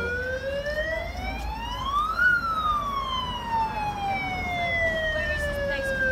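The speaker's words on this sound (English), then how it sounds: "I don't think Bath has seen this many police cars before." A wailing siren from police cars on a street in Bath, one long rising and falling sweep, loud and fairly near over steady street noise.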